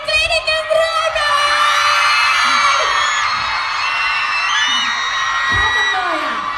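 A crowd of fans at a live shopping-mall event shrieks and cheers loudly and continuously, high-pitched screams layered over a dense roar, with shouting voices mixed in throughout.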